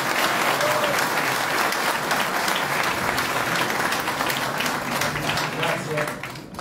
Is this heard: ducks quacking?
no